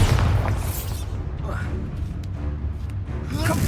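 Bombarda explosion spell in Hogwarts Legacy, booming blasts and crashing bursts at the start and end with rumbling game effects between, mixed with game sounds and a voice speaking.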